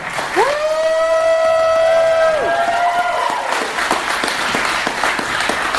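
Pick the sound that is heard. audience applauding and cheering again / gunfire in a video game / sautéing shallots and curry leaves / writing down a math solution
audience applauding and cheering again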